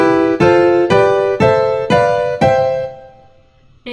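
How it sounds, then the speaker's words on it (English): Five sustained chords struck one after another at an even pace, each ringing out and fading, the last decaying into near silence before a brief final attack. "and chords, which sound like this"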